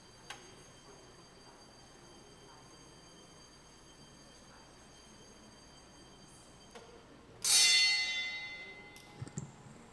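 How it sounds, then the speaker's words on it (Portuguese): An electric bell sounds in a council chamber during a formal session: a single sharp, bright ring about three-quarters of the way through that decays over a second, after quiet room tone with faint ticks and clicks. "Essa campainha é horrível."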